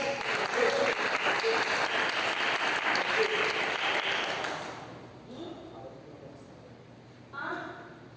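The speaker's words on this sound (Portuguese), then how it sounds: "E as palmas louvam ao Senhor." A church congregation claps in praise, a full steady burst of applause that fades out after about four seconds, followed by quiet room sounds and a brief voice.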